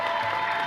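An audience at a Borderlands 3 gameplay presentation gives a brief burst of scattered clapping, brief and moderately loud.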